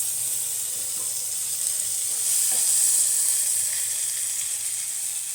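Parshe fish frying in a pan with very little oil, a steady bright sizzle that swells slightly midway, close and continuous without talk.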